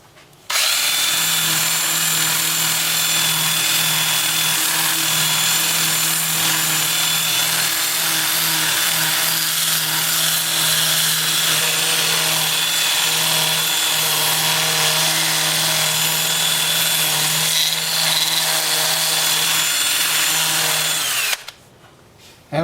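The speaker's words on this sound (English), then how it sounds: "80 grit on my 2-inch disc sander to sand all of the turn parts" A 2-inch disc sander with 80 grit grinds continuously against turned driftwood parts, a loud steady whine with a constant hum that holds for about twenty seconds before cutting off, with no talking.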